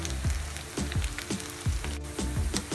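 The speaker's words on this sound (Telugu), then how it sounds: "ఒకవైపు బాగా ఫ్రై అయిన తర్వాత రెండు వైపు కూడా టర్న్ చేసుకుని ఫ్రై చేసుకోవాలి" Onion rings frying in hot oil, a steady bubbling sizzle with faint crackling pops throughout, heard up close with no talking.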